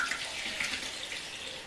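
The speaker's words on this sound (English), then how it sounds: "So I'm going to put some water in there." Steady water pouring into a plastic container during stock-making in a home kitchen, a continuous close splashing rush with no talking.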